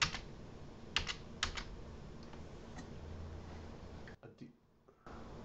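Keys on a computer keyboard are pressed in a few sharp, close clicks during software navigation, separated by pauses, over a quiet steady background hiss.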